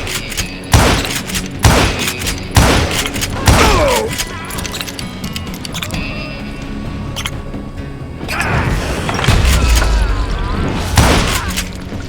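Gunfight in the Western shooter Call of Juarez: Gunslinger, set in Parachute, Colorado: a run of loud, sharp gunshots spaced about a second apart, followed by a stretch of rolling, rumbling gunfire with no talk.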